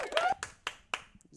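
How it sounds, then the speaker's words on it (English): A few sharp hand claps, about four spaced beats, close and fairly loud, with a voice briefly audible at the start. "Round of applause for Dylan"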